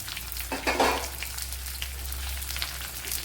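Two large chopped onions frying in a pan for egg stew give a steady soft sizzle, with a brief louder crackle and stir near the start, close and without talk.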